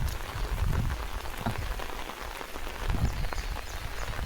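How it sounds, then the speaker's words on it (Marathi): A heavy monsoon downpour hammers down close by in a dense, continuous patter, swelling in intensity a few times with no voices over it. "जबरदस्त पाणी पडेल मुसळधार"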